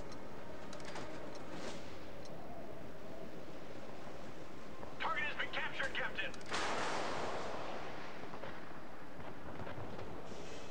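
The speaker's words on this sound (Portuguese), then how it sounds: "Olha que tiro bonito," Naval gunfire in the warship battle video game World of Warships, a heavy distant boom with a rolling rumble and spray-like wash over a constant ocean and engine bed, with a player talking over it.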